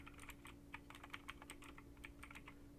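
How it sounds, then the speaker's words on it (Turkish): Rapid computer keyboard typing, steady clacking keystrokes close to the mic over a low constant hum, during an online slot casino stream, with no talking. "Kanka bu klavyenin sesi çok rahatsız ediyor musun ya?"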